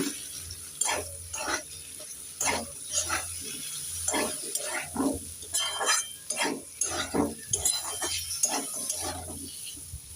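In a pan, kundri (ivy gourd) and potatoes are stirred and fried with ginger, garlic, cumin paste and tomato. A spoon scrapes and clinks in irregular strokes over a faint sizzle and a low background hum.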